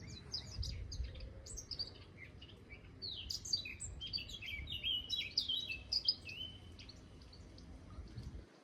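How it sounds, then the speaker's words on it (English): A blackcap, a small grey warbler with a dark hood, sings a rich run of warbling phrases in undercliff scrub near Ventnor, with faint chirps at first and a fuller song in the middle, near and clear over soft wind rumble. "That's a black cap."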